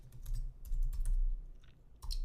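Code being typed on a computer keyboard: close, crisp clusters of key clicks in several quick bursts separated by short pauses, with no voices.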